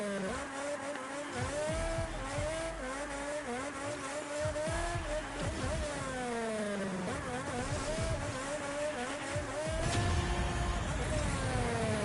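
A car drifts around corners in a racing video game: a constant high engine whine rises and falls through gear changes, with tire squeal through the turns and a louder burst near the end.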